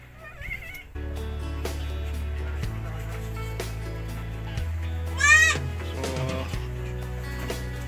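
Goats, including newborn kids, bleat several times nearby over a steady low hum, with some chicken-like clucking mixed in.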